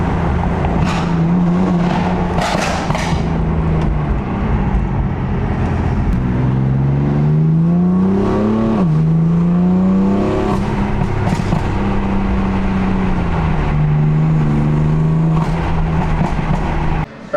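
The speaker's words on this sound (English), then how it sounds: "let's go ahead and get some flybys, get some launch control, get some revs, see what this thing sounds like" A BMW M4 fitted with a new exhaust revs hard and accelerates, its loud engine note rising and falling through several sweeping pulls, close and continuous with no talking.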